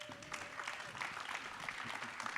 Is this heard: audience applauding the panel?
yes